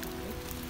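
Rain falling steadily on a mountain trail on Mount Sumbing, Indonesia, a soft continuous patter with no voices over it.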